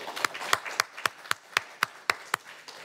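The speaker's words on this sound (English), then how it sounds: "One more round of applause for today's poets and dancers." A single person claps slowly and steadily, about ten sharp, evenly spaced claps, after a poetry and dance performance of readings from an anthology, rather than a full audience ovation.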